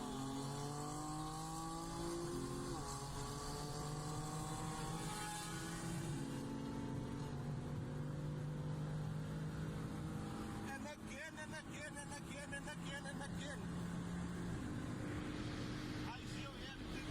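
A race car at high speed in a race, with loud, continuous engine roar and rising and falling gear-change tones, playing under excited voices in a late-night podcast room.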